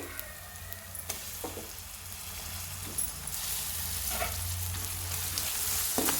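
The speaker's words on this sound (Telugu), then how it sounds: "అల్లం వెల్లుల్లి పేస్ట్ ఎగిన కదండి ఇప్పుడు టమాటా వేసుకోవాలి" Tomatoes frying in ginger garlic paste for a potato and pea curry, a steady crackling sizzle that grows slightly louder, punctuated by a few stirring knocks of a spoon against the pan, no talk.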